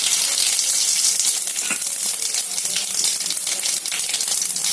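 Mustard seeds and cumin sizzle and crackle in hot ghee, a dense, loud, continuous frying hiss close to the pan, with faint popping through it and no talking.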